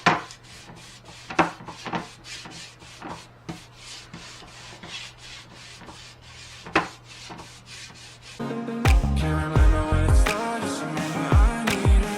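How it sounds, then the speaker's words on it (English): A brush buffs furniture wax into a wooden piece in repeated soft rubbing strokes, close and fairly quiet over a low hum, until music takes over for the last few seconds. "So I'm just going to wipe this on and just really buff it in."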